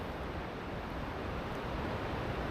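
Dense, unbroken roar of a powerful waterfall near a glacier, heard from about 100 meters away as a steady broadband rush with no talk over it.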